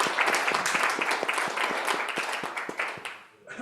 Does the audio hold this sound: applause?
yes